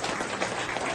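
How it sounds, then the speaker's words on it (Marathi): An audience at a school event in Shirdi claps in a dense, continuous burst of applause that fills the whole moment, loud and close with no voices over it. "आपण विजूभाऊंसाठी एक जोरदार टाळ्या आपण देऊया"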